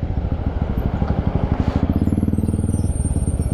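A motorcycle threads through a traffic jam on a mountain road, its engine close and loud with a steady, rapid thumping pulse that holds throughout, with faint traffic behind it.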